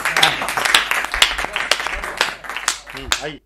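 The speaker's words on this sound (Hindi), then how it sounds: "बहुत जोरदार तालियां बजाकर भाई अजय प्रधान को आमंत्रित करिए" Audience applause welcoming humorous poet Ajay Pradhan at a studio poetry show, a dense spread of claps lasting a few seconds, with a voice speaking over it near the end.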